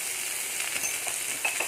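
Cauliflower frying in a pan in South Indian style cooking, a steady close hiss and sizzle with faint stirring scrapes, no talking over it.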